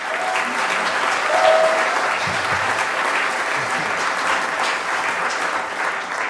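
Dense audience applause fills a conference hall at a Python lightning talk session, steady and loud throughout with no pause or speech on top.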